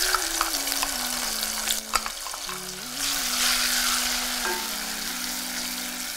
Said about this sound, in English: what I'm going to do first is to add my palm oil. And then my crushed pepper and onions.